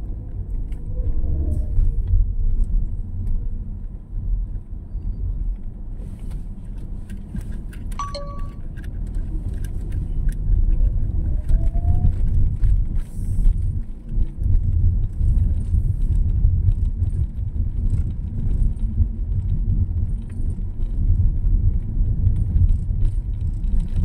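A Mitsubishi Xpander GLS 2025 driving through heavy traffic on a rough, potholed road, heard from inside as a steady low engine and road rumble with a brief ding partway through.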